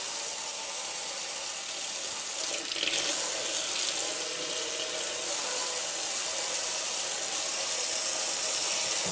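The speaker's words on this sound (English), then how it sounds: "So we're going to go ahead and get some cold water." Cold water runs from a kitchen tap into a sink as a steady, close, unbroken hiss for cheese making, with no voices.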